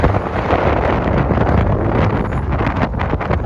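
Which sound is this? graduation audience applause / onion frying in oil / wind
wind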